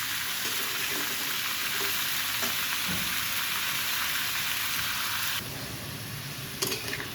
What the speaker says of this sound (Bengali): আমি এখন সুন্দর করে সবজিগুলো একটু ভেজে নেব